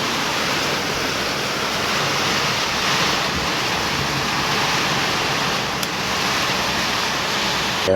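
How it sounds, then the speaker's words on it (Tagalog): Dense, roaring broadband noise of heavy rain driven by strong typhoon winds, steady and loud throughout with gusty buffeting against the microphone. "Grabe, lakas ng ulan."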